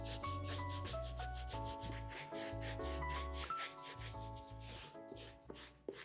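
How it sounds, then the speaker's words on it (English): A medium bristle brush scrubs a sneaker midsole in quick repeated strokes, a close, dry, rhythmic rubbing with short pauses between bursts. "Now time to proceed with the medium bristle brush and get a deeper clean on my midsole"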